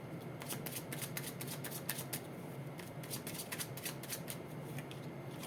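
Tarot cards are shuffled in a steady run of quick riffling flicks, close and continuous over a soft background hiss, with no talking.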